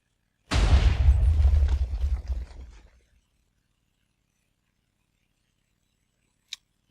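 A TNT cannon blast in the video game Minecraft: one loud, close explosion that booms and rumbles for a couple of seconds before fading into silence, then a single faint click.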